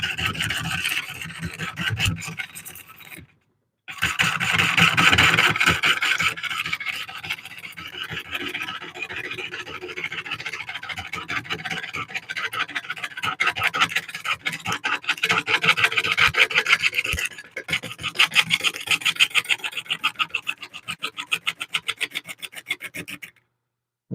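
Freshly sharpened lathe tool cutting a cork oak bowl on a wood lathe, a continuous rasping, scraping rub against the spinning hardwood with two short pauses, loud and close, without talk.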